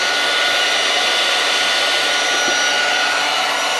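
Heat gun blowing steadily on heat shrink tubing during electric unicycle repair work, a loud, even, unbroken fan-and-air roar that holds constant throughout.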